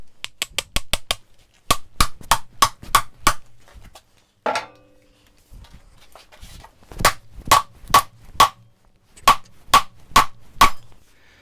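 Sharp, close knocks of a small hammer on green wood logs in quick bursts of several strikes, separated by short pauses.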